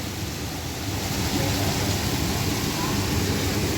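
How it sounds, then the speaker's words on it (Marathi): Heavy rain pours down in Dubai, a dense, loud and continuous roar of downpour that holds steady and swells slightly toward the end, with no other sounds standing out. "दुपारी फक्त एक दीड तासासाठी शांत झालेला हा पाऊस हा आणि जर असं हलकंसं ऊन पडलेलं त्याच्यानंतर परत सुरू झालं"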